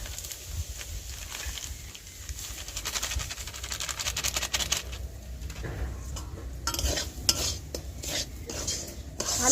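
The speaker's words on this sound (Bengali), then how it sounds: "ভালো করে সুজিটা ভেজে নেব" Semolina being stirred and dry-roasted in a pan with bay leaves, a continuous scraping and rattling of a spoon against metal, with sharper clatters toward the end.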